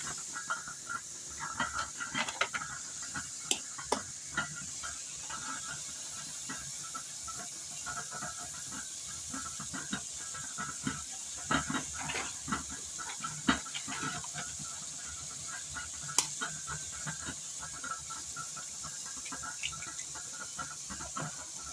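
An egg fries in oil with sautéed mushrooms, giving a soft continuous hiss and sizzle with faint crackles, steady and quiet at close range, with no talking.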